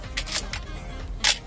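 The shutter button of a film SLR camera is pressed with its battery removed, giving a few quiet mechanical clicks close to the mic, followed by a sharper, louder snap near the end.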